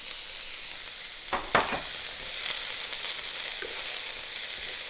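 Bean sprouts and celery stir-fried in a hot pan for chop suey, a dense continuous sizzle with a few scraping stirs of a spatula partway through, close and steady with no voices.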